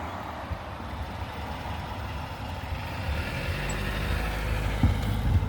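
Road traffic passing steadily, a broad continuous rumble of cars and trucks that swells slightly louder toward the end.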